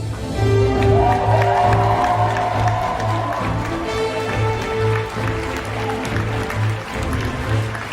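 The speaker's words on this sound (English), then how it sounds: "And a round of applause for our special guests." Audience applause at a KupoCast event greeting special guests, steady clapping throughout with a rhythmic low pulsing music bed underneath.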